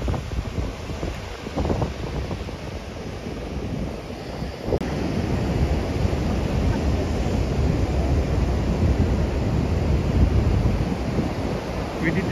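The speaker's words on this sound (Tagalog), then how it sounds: "Malalaki pala ang alon dito" Big ocean waves break on a beach below a downhill trail to a white-sand shore, a steady broad roar of surf with heavy wind buffeting the microphone throughout and no talk.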